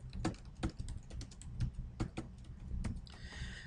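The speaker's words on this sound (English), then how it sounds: "So now I can just go ahead and begin to type my message." Keystrokes on a computer keyboard while an email message is typed, a quick irregular run of clicky taps, close and clear, with no talking.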